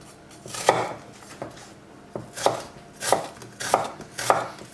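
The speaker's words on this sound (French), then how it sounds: "L'oignon, on va l'émincer. On va couper comme ça." A knife chops an onion on a cutting board in a home kitchen, the hard strikes coming as separate, irregular taps with clear gaps between them, close and crisp, and nobody speaking.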